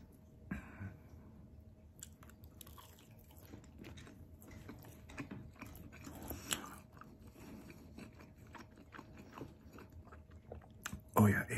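Chewing and biting through Domino's sausage and pineapple pizza and chicken bites, with soft repeated crunches and wet mouth sounds close to the mic, steady throughout with a louder bite near the end.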